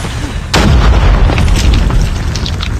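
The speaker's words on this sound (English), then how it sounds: "Grenade, run!" A grenade goes off in Call of Duty Mobile multiplayer: one sudden loud blast followed by a deep rumbling roar that lingers with scattered crackles.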